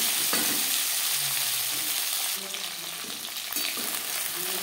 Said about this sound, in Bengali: জ্যান্ত মাছ আমি হালকা করে ভেজে নেব।